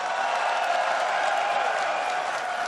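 Crowd applause fills a live esports event for a Counter Logic Gaming win, a dense, steady wash of clapping and cheering that holds evenly throughout.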